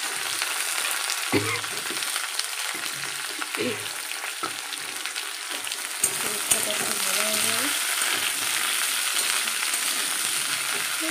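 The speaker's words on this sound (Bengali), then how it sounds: "ডালে দিয়ে এবার উচ্ছেটা ভেজে নেবো" Bitter gourd slices frying in hot oil in a home kitchen pan, a steady close sizzle running throughout with occasional stirring knocks and scrapes, plus brief faint voice sounds in the background.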